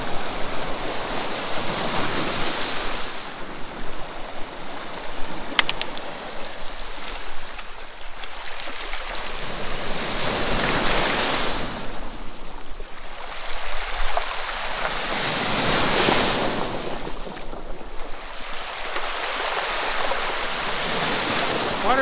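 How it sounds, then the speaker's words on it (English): Big rollers break on a Lake Michigan-style rocky beach in slow, regular surges every five seconds or so, a broad loud wash of surf with wind buffeting the microphone. "there's just these big rollers coming in"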